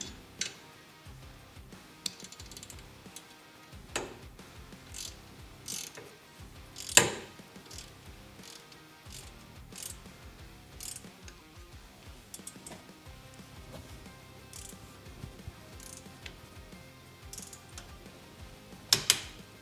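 Torque wrench tightening a 5/16 bolt on a stamped steel skid plate of a 2024 Harley-Davidson Road Glide, a series of sharp ratcheting clicks over a low background clatter, with a few louder snaps standing out.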